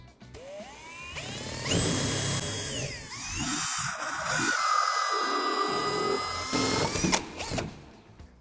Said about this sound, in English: Now drill the mixer hole.